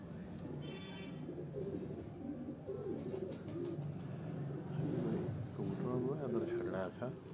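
Pigeons kept for about ten to twelve years coo softly in a rooftop loft, low repeated burbling calls mixed with a few chirps, heard under ongoing talk by nearby men.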